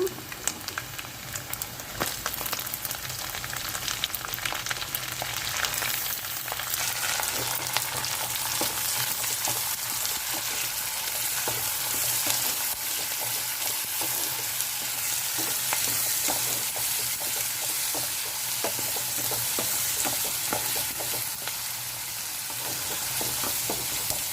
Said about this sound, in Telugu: ఉల్లిపాయలు కూడా వేగిపోవాలి